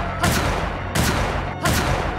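Rapid bursts of gunfire from a shooting weapon in the video game Bloodstained: Ritual of the Night, three loud, close volleys in quick succession over a constant background.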